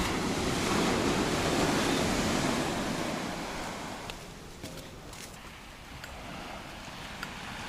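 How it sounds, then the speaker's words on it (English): Surf breaking on Escondido Beach in Malibu, a steady broad wash of waves that rolls loud at first and eases slightly, with wind buffeting the microphone and a few faint clicks. "we've made it safely to the beach. Escondido Beach."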